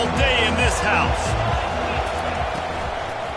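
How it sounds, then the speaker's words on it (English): Stadium crowd noise from a Madden football video game, a steady loud roar filling the whole stretch, with rhythmic thumping and faint higher calls riding on top. "This crowd trying to show them what it's going to be like all day in this house."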